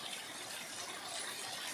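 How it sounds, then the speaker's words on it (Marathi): Rainwater pours off a roof sheet during heavy rain, a steady rushing wash of falling water that stays even and fairly faint, with no voices. "समोरच्या पत्रावरून किती पाणी पडतं यानुसार तुम्हाला अंदाज आलाच असेल की पाऊस किती पडत आहे"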